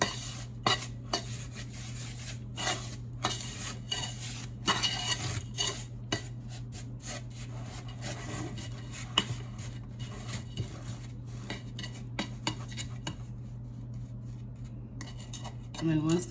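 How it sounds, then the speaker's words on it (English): A spatula and spoon work butter into dry graham cracker crumbs in a pan for a no-bake blueberry icebox pie crust, with rapid, irregular scraping and metallic clinks running close and continuous throughout. "I like to use a spatula and a spoon, so I just start working the butter into the graham cracker"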